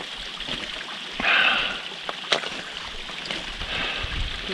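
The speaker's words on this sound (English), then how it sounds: "This is where you catch the water coming off the stream." Water flows off a stream at waterfalls on a hike, a soft steady rush with a few brief splashes and one sharp knock partway through.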